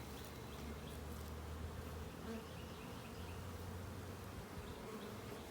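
Honey bees from an open hive during an inspection make a dense, continuous buzzing drone that stays steady and fairly faint throughout, with no voices.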